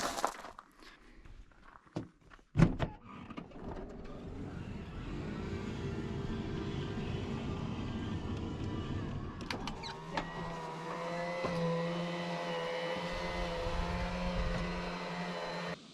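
An electric awning on a Sprinter van, in a sunny, windless desert campsite, motors out with a steady whirring hum that runs for several seconds, then shifts to a higher drone, after a few scuffing clicks and bumps; no talk.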